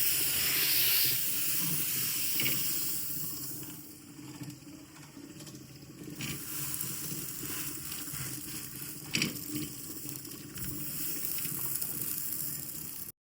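Butter on pav sizzling on a hot pan for pav bhaji: a steady broad hiss and crackle that continues throughout, with small pops, fairly close and moderately loud, no talking.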